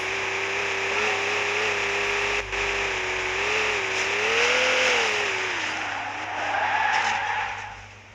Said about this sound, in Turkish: Araba geri geri yapıyor.